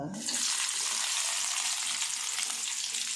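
Goat head curry and brain fry in hot oil, giving a loud, continuous sizzle close by that holds steady throughout.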